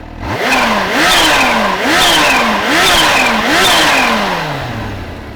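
A supercharged Kawasaki H2 SX motorcycle engine revs repeatedly, loud and close, with five rising and falling surges in a steady rhythm before the pitch drops away.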